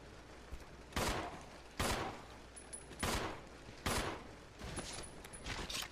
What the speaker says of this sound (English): It's usually about 4 shots to drop a zombie.